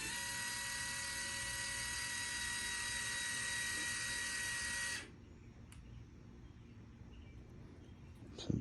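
The actuator motor of a remote-controlled lawnmower runs with a steady, high-pitched electric whine for about five seconds, then cuts off abruptly, leaving faint background hum and a small clunk at the end.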